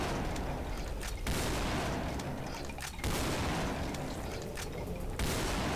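Heavy double-barrelled shotgun blasts from the video game Brutal Doom, loud booming shots repeating roughly every two seconds over a dense, continuous rumble of game noise, with no voices.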